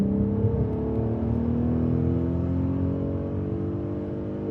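A Volkswagen R32 engine revs smoothly from inside the closed cabin while driving, its tone rising and falling in a steady droning hum, loud and continuous with no talking.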